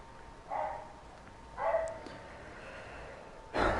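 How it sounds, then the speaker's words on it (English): A dog barks in a few short, fairly faint bursts spaced through the clip, a pet in a home where someone is streaming the game Genshin Impact. "You've literally barked 300 times already."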